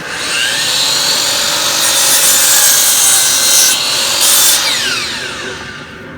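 A miter saw set to a 30-degree angle cutting a wooden board: steady, loud motor whine close by, with the blade biting through wood in two intense bursts before spinning down. No voices.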